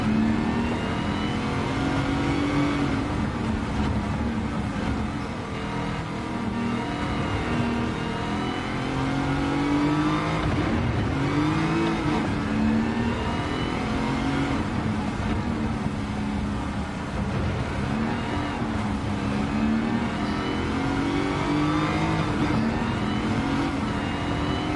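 A Pontiac GTO Judge engine in Gran Turismo 7 revs loudly and continuously, its pitch climbing and falling as the car accelerates and eases off, with no voices over it.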